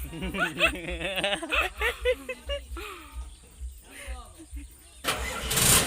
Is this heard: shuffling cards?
no